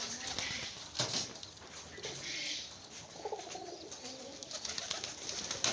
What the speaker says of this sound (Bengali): হে কবুতর